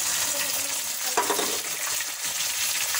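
Tomato dropped into a pan of browned onions and frying masala for an aloo baingan curry: a constant close sizzle, then a sudden louder hiss and splutter as the tomato lands, settling back to steady frying.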